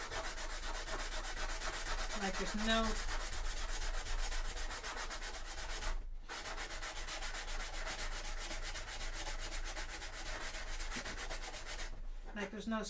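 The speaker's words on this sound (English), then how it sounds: "do a little bit more of a test of sanding" Sanding of Warhammer 40K Sisters of Battle thigh armour, a close, continuous scratchy rubbing that runs steadily with two brief pauses, while someone speaks briefly.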